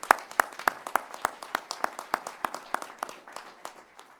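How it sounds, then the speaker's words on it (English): A single person claps at a steady, even rhythm, about four claps per second, close and distinct, at an awards ceremony. "please join me in offering a round of applause for his accomplishment"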